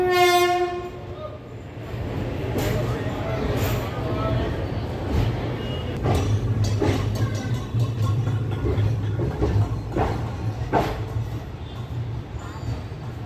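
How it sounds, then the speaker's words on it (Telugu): The Kurnool City to Guntakal DEMU passenger train departs with a loud horn blast, then a steady rumbling roll punctuated by rhythmic wheel clicks, close by on the platform. "సో కర్నూలు సిటీ నుండి అయితే బయలుదేరిపోయింది గుంతకల్ బోధన్ ప్యాసింజర్ అయితే"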